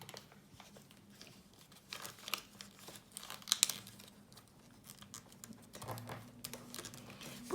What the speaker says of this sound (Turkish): O koyduğum izlerden içeri doğru katlama yapıyorum.